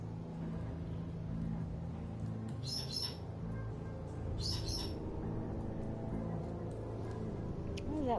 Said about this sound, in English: That bird chirping.